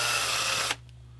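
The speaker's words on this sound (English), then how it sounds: "Drill through here." A loud, steady power drill whines as it bores through a walking stick handle, then cuts off sharply, leaving only a faint background hum.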